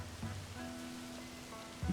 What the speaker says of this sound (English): it rains a lot in Kakariko